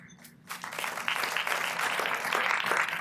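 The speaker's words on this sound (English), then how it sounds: "Let's give them a big round of applause." An audience at an awards banquet breaks into applause that starts after a brief pause and builds into steady, dense clapping from many hands.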